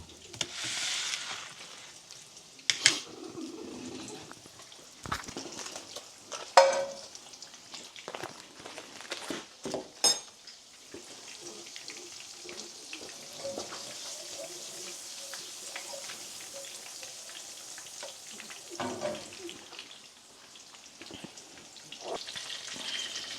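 Meat pieces frying in a pan at home, a soft continuous sizzle with occasional crackles and pops, some faint clatter and talk in between.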